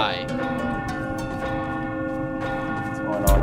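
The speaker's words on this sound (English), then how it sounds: "why is the bell ringing?" A church bell tolls in a Halloween-themed video game, its long ringing overtones sustained and fairly loud throughout, with a sudden thud near the end.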